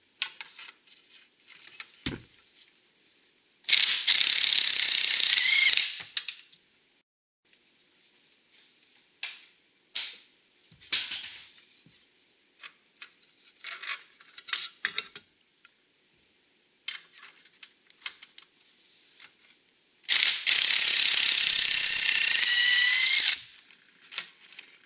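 Ratcheting wrench, likely power-driven, loosening bolts on a car's exhaust crossover pipe during a header install on a Buick Regal GS, two loud bursts of rapid clicking several seconds apart with faint clanks and shuffling between.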